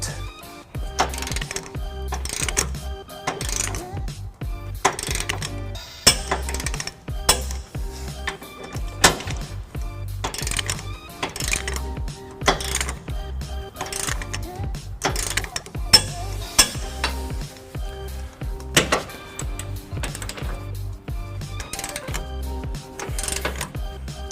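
A torque wrench tightening trailer hitch bolts on a 2007 Nissan Titan, heard up close as a long run of rapid ratcheting clicks in uneven bursts with brief pauses, the mechanical clatter continuing throughout without speech.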